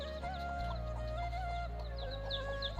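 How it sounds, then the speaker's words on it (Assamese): Two hens cluck softly and repeatedly nearby, short chirpy calls over a steady low hum in a quiet yard. "এইকেইজনী দুজনী মুৰ্গী কি ধুনীয়াকৈ খেলি আছে"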